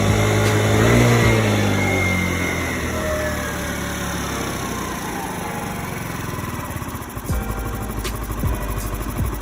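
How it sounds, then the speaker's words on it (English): A small Ruckus-clone scooter engine with an upgraded carburetor idles unevenly, starting a bit louder then settling into a lower putter that sputters and stutters toward the end. "As you can see, she's idling now."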